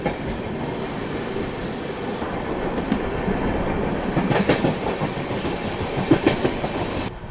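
Rajdhani Express train running from Patna to New Delhi near the Son river, heard from on board: a steady loud rumble of wheels on rails with rhythmic clickety-clack growing busier toward the end, and no voices.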